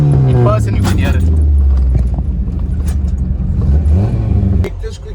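A car fitted with a custom stainless steel exhaust drones loudly and steadily up close, its engine note falling and rising, with any pops and bangs buried in the continuous roar and a voice talking over it.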